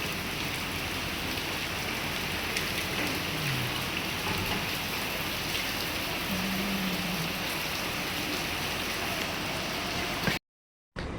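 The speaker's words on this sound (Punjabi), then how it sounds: "ਦਿੱਲੀ ਕਿੰਨੀ ਬਾਰਿਸ਼ ਹੋ ਰਹੀ ਹੈ ਦੇਖੋ ਜਰਾ" A steady, dense downpour of heavy rain falls in Delhi on Dussehra, an even roar of drops on surfaces throughout that cuts off abruptly just before the end, with no one speaking.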